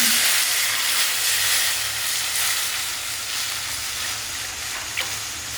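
Ground rasam paste goes into hot oil with shallot, curry leaves and a dried red chili for thuthuvalai rasam, giving a loud, steady hiss of sizzling that eases slightly over several seconds.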